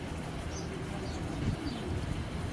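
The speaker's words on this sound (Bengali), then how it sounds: "এগুলা পেডিগ্রি করা কবুতর।" Pedigree racing club pigeons coo in low, soft, repeated throaty calls that stay steady under a murmuring background, with faint chirps above.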